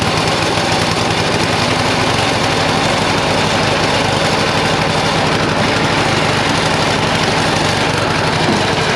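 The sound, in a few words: snowblower running, stuck going forward in one gear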